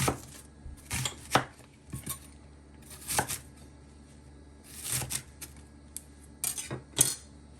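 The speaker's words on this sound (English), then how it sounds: "We're gonna just chop our onion" An onion being chopped with a knife on a board, heard as scattered close thuds and clicks in short irregular clusters with quiet pauses between, no talking.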